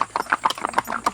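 Horse hooves clip-clop at a quick, uneven pace during a ride in Matheran, loud and close, with no talking over them.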